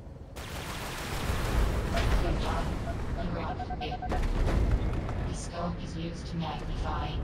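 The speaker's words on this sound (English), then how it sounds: "Destroy the target with missiles." A mech fires missiles at a target in the video game Vox Machinae, producing repeated booming launches and explosions over a steady rumbling background, with spoken instructions in places.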